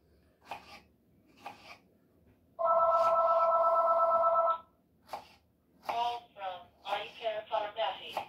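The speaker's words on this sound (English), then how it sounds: "My phones are ringing." A home telephone rings in a kitchen during cake preparation: one loud, steady electronic ring of about two seconds, with a person talking before and after it.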